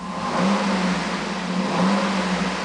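A 2007 Cadillac Escalade EXT's 6.2 liter V8 revs while parked, two rising swells of engine roar over a steady idle, close and loud with no talking.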